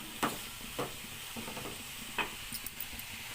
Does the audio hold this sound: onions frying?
yes